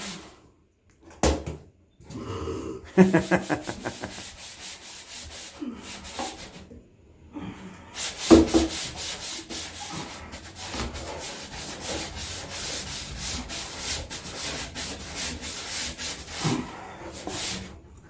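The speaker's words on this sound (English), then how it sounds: "It's a dry scrub." Dry scrubbing of black mould off a surface: bursts of close, harsh rubbing and scraping strokes separated by short pauses, then a longer stretch of continuous brisk scrubbing, with no voices.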